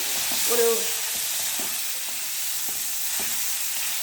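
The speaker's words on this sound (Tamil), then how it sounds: "இந்த கடாயில் வறுத்துக்கலாங்க" Grated coconut frying in oil in a kadai over a slow flame, a continuous close sizzle with occasional stirring scrapes, no voices.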